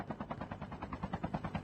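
Helicopter in the mobile shooter game Call of Duty Mobile, a steady rhythmic rotor chop pulsing throughout at moderate level, with no talk over it.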